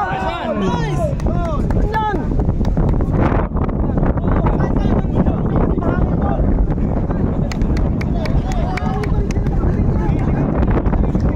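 Strong wind roars and buffets the microphone steadily while people talk over it.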